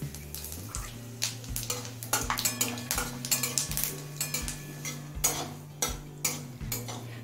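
Four dried red chillies and a spoonful of Bengali five-spice tempering frying in oil heated on a high flame, with repeated metal clinks and scraping of a spoon stirring in the pan over a soft steady background.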